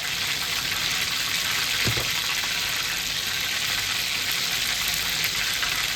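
Cumin seeds sizzle in hot oil alongside dried red chilli and bay leaf for a potol chingri curry, a steady broadband crackle throughout with one brief clink near the middle, no talk.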